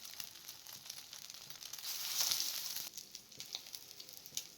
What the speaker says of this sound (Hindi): अंडे में डिप करके कबाब को फ्राई कर लें